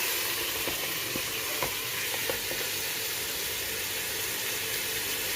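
Mutton with its marinade and chilies frying in a pot for Hyderabadi biryani: a loud continuous sizzle close by, broken by a few soft taps of stirring.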